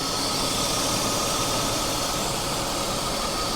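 A car engine idles steadily while warming up after crash repair, a constant broadband running drone with no change in pace and no voices.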